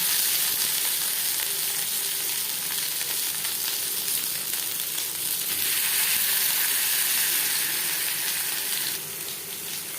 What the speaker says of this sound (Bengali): ফ্রাই করবার জন্য দিয়ে দিয়েছি দু চামচ সরষার তেল এবার দিয়ে দেবো পাতুরি